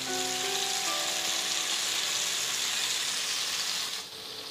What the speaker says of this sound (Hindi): पनीर को हम रोस्ट करेंगे चारों साइड से टर्न कर करके, एक एक दो दो मिनट के लिए।